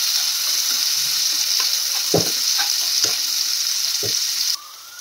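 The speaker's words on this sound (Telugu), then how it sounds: "ఆనియన్స్ వేగిపోయాయండి" Onions sizzle steadily in a pan, a bright, even fry with a few soft stirring knocks before the hiss drops abruptly near the end.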